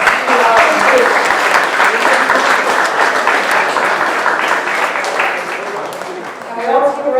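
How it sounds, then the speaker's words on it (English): A crowd at an under-15 hurling final in Carlow gives the coach a loud, sustained round of applause, dense clapping close by that tapers slightly before swelling again, with voices mixed in. "Can we also give a round of applause to our coach?"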